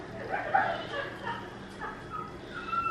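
A puppy gives a few short, high yips and whines, close by, with a voice faintly audible underneath.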